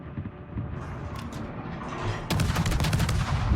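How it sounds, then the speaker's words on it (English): Heavy 133mm naval guns fire in a warship video game, heard as dense rumbling salvos with mechanical clatter. A louder, sharper burst of reports comes in the second half, close and continuous, with no voices. "very, very floaty and slow the shells are from these 133mm guns"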